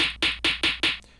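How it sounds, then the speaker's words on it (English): A punchy, hard snare drum sample from a drum kit in FL Studio hits five times at an even, quick pace, each crack loud and sharp, with no voices. "Just real punchy, hard snare"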